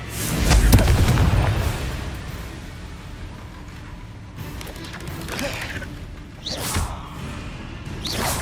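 A Confringo spell blast in Hogwarts Legacy, a loud booming burst near the start followed by softer whooshing magical effects and mechanical clatter as the fight continues.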